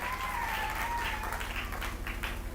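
A church congregation clapping loudly in praise, a dense continuous patter of many hands with a faint tonal whistle or feedback line and a low hum underneath.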